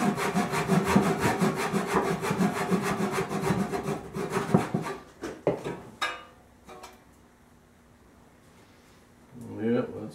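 Hand saw cutting through cherry wood for a Chippendale handkerchief table knee block: steady, rhythmic back-and-forth rasping strokes for about five seconds, then the sawing stops, followed by a few scattered knocks and a quiet room.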